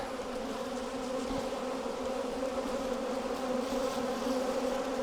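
Honey bees hum in an open hive during an inspection, making a continuous, dense, close buzzing drone that holds steady throughout with no speech.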